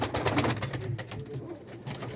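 Large Han pigeons coo in low, soft repeated calls, several birds overlapping at close range, with a steady murmur of flock noise around them.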